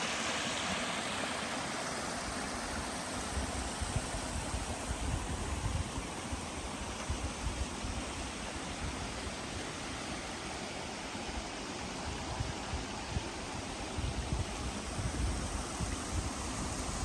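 A brook runs beside a mountain trail, giving a steady, continuous rush of flowing water that fills the whole scene, close and even with no pauses.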